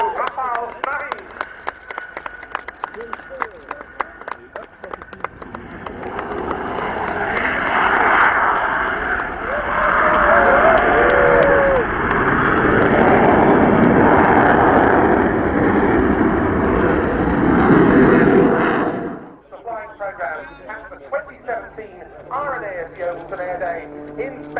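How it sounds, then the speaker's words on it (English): French Navy Dassault Rafale Marine jet flying a display at Yeovilton Air Day, its engine roar swelling loud for about fourteen seconds then cutting off sharply, with a commentator talking before and after the pass. "superbly demonstrated today by the French Navy, the two pilots from Flotille 11F at Landivisiau on the Dassault Rafale Marine"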